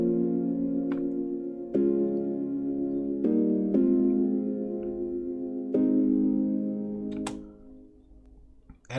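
Warm synth chords for an Afro House track ring out alone, changing every second or two with sustained, mellow tones and a soft decay at the end.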